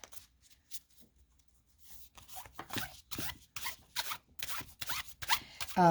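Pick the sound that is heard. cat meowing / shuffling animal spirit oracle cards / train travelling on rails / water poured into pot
shuffling animal spirit oracle cards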